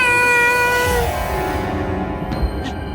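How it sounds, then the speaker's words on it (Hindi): A cat meows loudly and close in a drawn-out call that fades out, followed by a couple of faint softer sounds, set inside a home in a comedy sitcom scene. "घर में बिल्ली आ गई है।"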